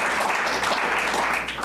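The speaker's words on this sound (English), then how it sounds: "let's give them a warm round of applause for their efforts here" Audience applause at a live Cleveland Cavaliers discussion event, a dense, steady wash of clapping from a roomful of people, close and continuous with no talk over it.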